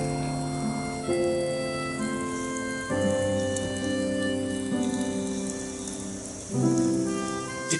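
Heavy rain pours steadily, with soft musical tones shifting in the background; no one speaks.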